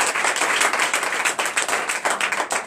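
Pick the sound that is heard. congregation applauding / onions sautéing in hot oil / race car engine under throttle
congregation applauding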